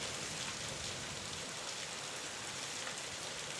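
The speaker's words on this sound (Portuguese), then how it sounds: "Se você está gostando dessa atmosfera sombria ao som da chuva" Steady, dense rainfall fills the whole stretch as an even, continuous hiss, close and unbroken, with no voices, setting a dark, gloomy atmosphere.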